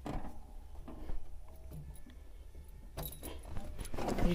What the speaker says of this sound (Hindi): ये चाबी, इसको लगाते हैं अपन यहाँ